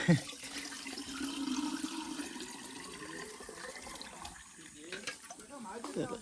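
Water drawn from a deep well splashes and pours steadily into a pitcher, a continuous rushing that fades slightly toward the end, with faint voices in the background.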